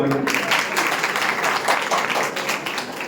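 An audience at a Women's Day celebration applauds during a garlanding, a close, loud, continuous round of clapping from many hands that holds steady throughout.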